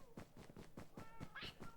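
Cats in a LegoWelt server video game meow faintly, a quiet rapid series of short repeated cat sounds with one higher meow near the end.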